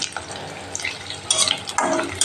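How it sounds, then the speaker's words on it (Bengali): Potatoes for a meat curry fry in a home kitchen pan, a soft sizzle under occasional scraping and clinks of a utensil, growing louder and busier toward the end, with no talk. "এখানে মাংসের আলুটা ভেজে নিচ্ছি।"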